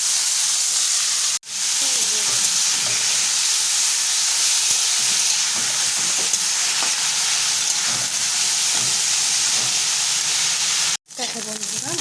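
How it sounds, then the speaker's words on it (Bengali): Mushrooms fry in hot mustard oil in a wok, giving a steady, close sizzling hiss that runs almost unbroken, with two brief drops and faint stirring clatter underneath. "এখন বন্ধুরা গরম হয়ে গেছে, এবারে মাশরুমগুলো দিয়ে ভেজে নেব।"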